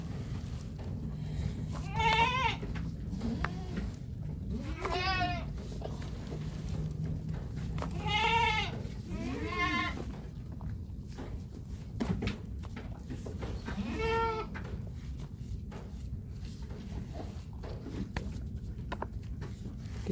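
Several goats, two adults and a kid, bleat in repeated wavering calls while being fed tofu pulp outdoors, with a few louder nearby bleats spread through steady background rustle.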